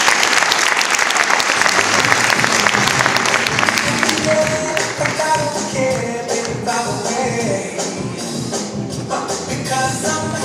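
An audience at a municipal campaign meeting applauds steadily and loudly for about ten seconds, the clapping thinning slightly toward the end with a few voices mixed in.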